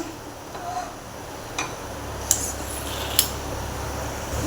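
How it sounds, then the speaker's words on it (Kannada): A gas stove being switched on and lit under a pan: a few sharp clicks of the igniter spaced roughly a second apart, followed by the low, steady roar of the burner flame. "ಈಗ ಗ್ಯಾಸ್ ಆನ್ ಮಾಡ್ಕೊಳ್ಳೋಣ"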